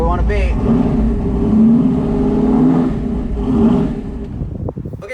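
Car with a 4,500 stall torque converter held at a stall check, engine droning loud and steady close by as the tires begin to spin, with a voice talking over it.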